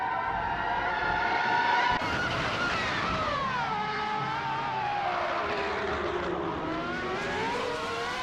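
A pack of video-game race cars led by a 1998 Ferrari F300 roars away from the start at Norris Ring, with high engine whines sweeping up and down through shifts, loud and continuous with overlapping cars.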